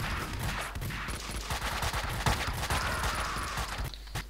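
Rapid bursts of gunfire in Max Payne 2 crackle steadily throughout, dense overlapping shots with a busy noisy backdrop and no talking.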